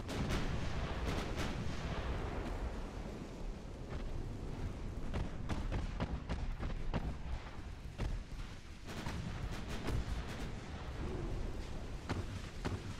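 Warship secondary guns in Ultimate Admiral: Dreadnoughts firing continuously, a dense, rumbling barrage of overlapping booms and sharp cracks with steady loud low roar throughout.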